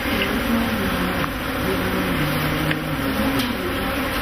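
Honey bees buzz steadily around African hives, a continuous near hum with shifting tones layered under a high hiss, no voices.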